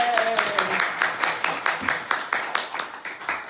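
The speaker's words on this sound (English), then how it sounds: "Round of applause" Audience applause after a talk at an exhibition walkabout, a rhythmic run of claps that rises and thins over a few seconds, with a brief voice at the very start.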